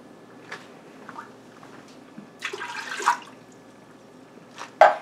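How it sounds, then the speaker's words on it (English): Plain water swishing and rinsing inside an emptied coconut milk can in a kitchen, a few splashy pours and sloshes with a final louder slosh, close and moderate. "I always rinse out my coconut milk can and use that as one of my cups of liquid with just plain old water."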